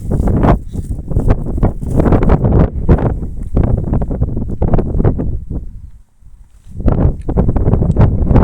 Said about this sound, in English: The audio can be ruined. In as far as the wind is concerned.